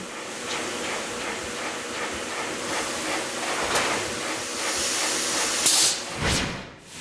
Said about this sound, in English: it's put inside this machine called a shin press, which squashes that knuckle so that it's smooth and flat